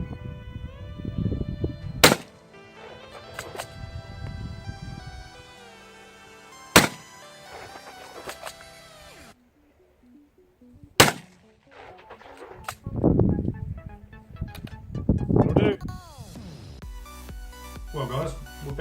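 Gunshots from a rifle fitted with a Bushnell TRS25 mini red dot sight, fired outdoors as a test of the last three rounds: several sharp, loud cracks spread apart, with someone talking between them.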